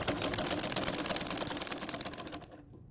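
Domestic sewing machine stitching lace onto a kurti, a fast steady run of close mechanical clatter that slows into separate stitches near the end and then stops.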